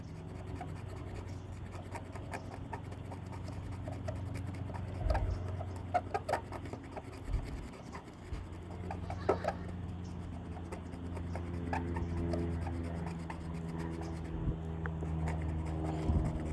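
The eraser tip of a touch-up paint pen rubs off paint on a car's peeling clear coat, giving soft, irregular scratchy rubbing strokes over a low steady background hum.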